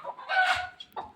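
A hen clucks in short bursts, one longer squawky call in the middle and a brief cluck at the end, fairly close, on a goat farm.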